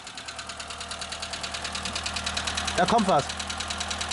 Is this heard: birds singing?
no